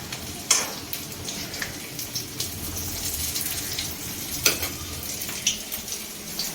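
Bondas dropped into hot oil fry with a steady, crackling sizzle, with occasional sharper pops and spatters standing out, close and even throughout with no talk.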